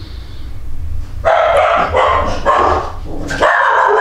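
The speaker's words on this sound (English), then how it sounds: "Sorry about my dogs." Several dogs bark loudly and close by indoors, sharp repeated yips and barks arriving in bursts that run almost without pause.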